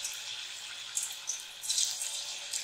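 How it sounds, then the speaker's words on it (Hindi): Soya chunk pakoras drop into hot oil over a medium flame, giving a steady, fairly quiet sizzling hiss with a few small crackling flare-ups. "तो अब हम इसमें एक एक बड़ी डालेंगे, ऐसे धीरे धीरे हम चम्मच से"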